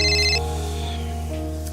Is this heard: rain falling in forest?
no